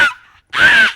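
A stage mimic's voice imitates a crow cawing, giving two harsh, raspy calls, a short clipped one followed by a longer, louder drawn-out caw, close and alone.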